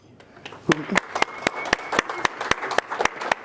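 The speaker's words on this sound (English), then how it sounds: "I would like us to give a hand of applause to Kara Kershaw." Steady hand clapping starts up and continues in a fairly even rhythm, with sharp individual claps from a small group nearby.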